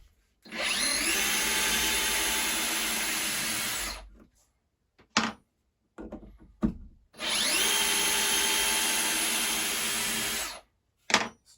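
A Festool TPC 18/4 cordless drill drives a screw into wood in two sustained whirring runs of about three to four seconds each, close and loud, with short clicks and handling knocks between them.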